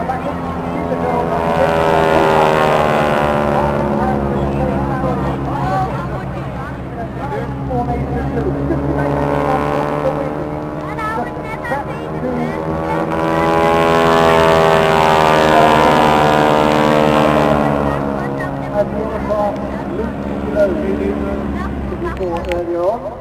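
Display aircraft in formation flying over at the Sunderland Airshow, a broad sustained engine roar swelling and fading across the pass with a commentator talking over the top.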